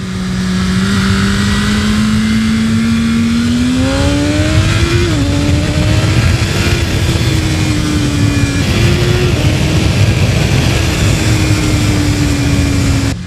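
A BMW S1000RR motorcycle engine revving loudly and close, its pitch rising and dropping through repeated throttle blips over a continuous roar, no speech.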